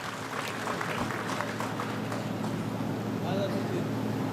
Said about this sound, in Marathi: त्यांच्यासाठी पण आपण टाळ्या वाजा